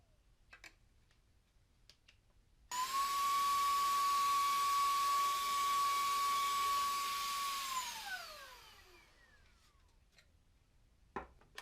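A 2-in-1 air blower and vacuum sucking up sawdust runs loud and steady for about five seconds with a high whine, then winds down, with quiet before and after.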